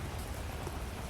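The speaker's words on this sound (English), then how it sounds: "you begin to hear and feel the rain." Steady rain pours down in a dense, even hiss of drops, continuous and fairly loud with no other sounds.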